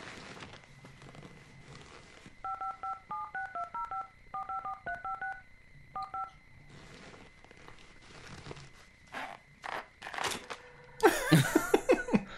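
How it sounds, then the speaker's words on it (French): A string of touch-tone telephone dialing beeps, short paired tones in quick irregular bursts over a low dial-tone hum, followed by soft clicks and a rustling clatter at the end. "Je lui téléphone immédiatement."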